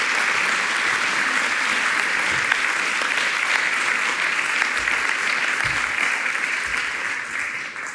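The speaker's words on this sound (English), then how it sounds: "Please give them a round of applause." Sustained applause from an audience at a live startup pitch event, honoring the finalists; steady dense clapping fills the hall for the full stretch, tapering slightly at the end.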